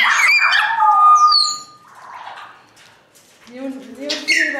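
Parrots at a German bird park squawk and chatter loudly up close, sharp harsh calls in short bursts, with a quieter patch midway before more screeches return.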